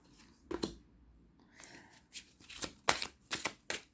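Tarot cards shuffled and drawn by hand: a series of crisp papery riffles and flicks, closely miked and alone, with short bursts clustered toward the end.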